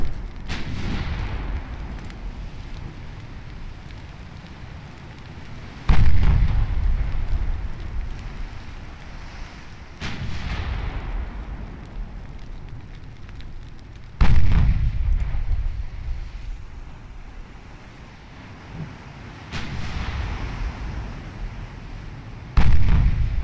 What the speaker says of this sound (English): Impotently attempt to shoot at each other for a bit.